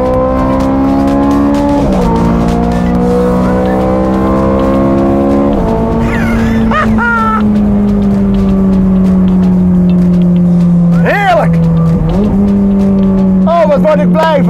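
A low-slung Ferrari sports car cruising on a highway, its engine a loud, steady drone that steps down through gear changes from inside the cabin, while people talk over it.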